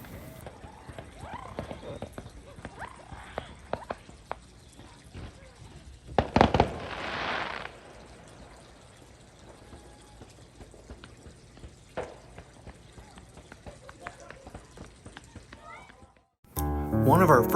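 Canada Day fireworks go off across the water from a marina: scattered distant pops and one louder, sustained burst midway through, over low background noise.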